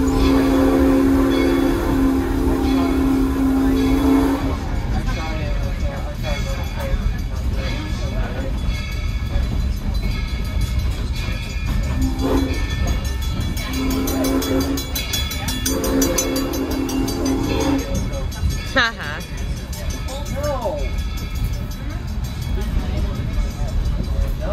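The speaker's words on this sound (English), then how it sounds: "Pulling our train is engine 97. She is a 280 consolidation type locomotive" Rumbling steam train pulled by a 2-8-0 Consolidation-type locomotive, whistle blowing at the start and again mid-way, steady rail noise throughout, with voices faintly underneath.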